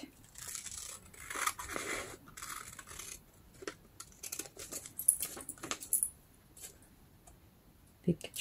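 Scissors snip through glossy magazine pages, a few close crisp cuts mixed with paper rustling and pauses.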